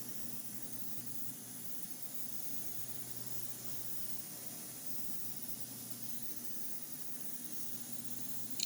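A spray gun lays down a PPG sealer coat on a 1968 Dodge Charger R/T during restoration, a steady, even hiss running unbroken and fairly faint throughout, with no talking.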